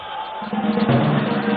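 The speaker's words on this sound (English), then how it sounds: "Guys, can we get the applause going?" Audience at a college fest in 2015 cheering and applauding for Sonam Kapoor; a loud crowd roar swells after a brief lull and keeps going, with voices shouting within it.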